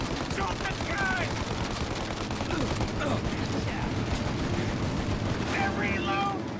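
Dense, continuous gunfire from a shootout in the video game Mafia Definitive Edition, sharp rapid shots packed together throughout under a steady loud din, with voices shouting over it.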